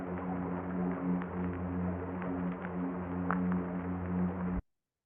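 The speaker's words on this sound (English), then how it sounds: "That was the sound of a midshipman, which is basically a fish that lives on the bottom." Underwater recording of a plainfin midshipman, a bottom-dwelling fish, calling: a faint, steady low hum with buzzing tones running for about four and a half seconds under background static, then cutting off.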